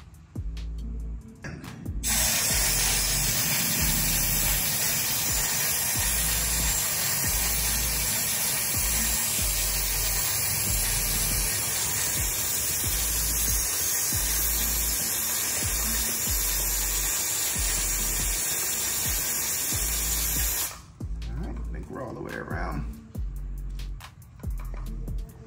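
A steady, loud aerosol spray hisses continuously for about twenty seconds onto a Honda CB1000R motorcycle chain, with short gaps and faint clicks at the start and end.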